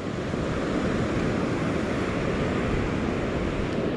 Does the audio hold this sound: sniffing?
no